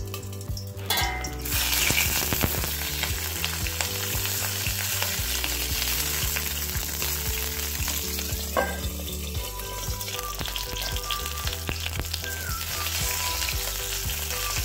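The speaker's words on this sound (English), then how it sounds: "And let's roast it in this oil for at least 5 minutes on a thin flame." Food roasting in oil on a low flame while making tomato chutney, a steady close sizzle and crackle running throughout, with occasional stirring clicks and light utensil knocks, no voices.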